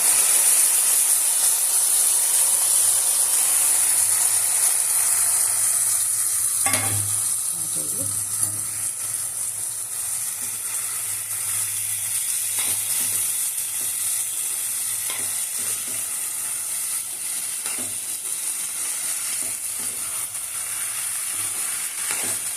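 Broad beans fry in a pan with a loud, continuous close-up sizzle and hiss, overlaid with occasional stirring scrapes and a thump near the start.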